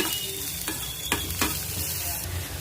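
Chopped onion and garlic cloves fry in oil in a pan for stuffed ridge gourd, producing a dense, even sizzle close by with a few crisp spatters and utensil scrapes.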